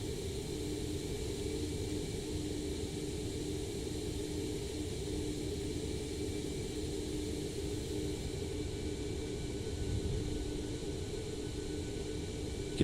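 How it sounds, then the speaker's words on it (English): Fuel pumps run in an iFly 737 MAX 8 flight simulator, a steady, even hum with a faint whine, set in a constant low rumble of engine and cockpit noise that holds unchanged throughout. "You can hear those fuel pumps running as well"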